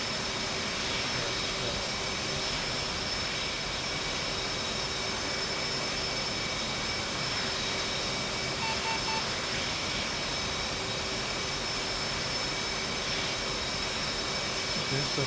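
Jet engine noise from an airplane in the Bomb Buds video game roars as a steady, broad, loud hiss for the whole stretch, with no talking heard over it.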